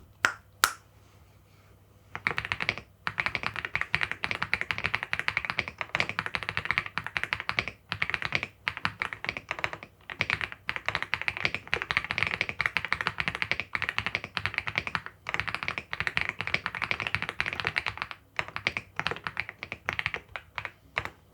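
Mechanical keystrokes clatter steadily on an AULA F75 keyboard, a fast, continuous run of close, crisp clicks and thocks lasting about twenty seconds with brief pauses.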